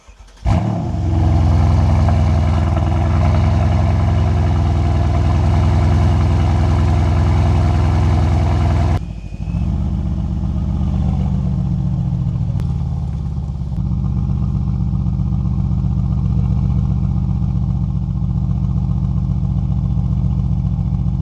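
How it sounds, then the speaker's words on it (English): A Mercedes car engine starting from cold, catching with a loud roar and then settling into a steady, rumbling idle close by, with no talking. "let's show you the cold start"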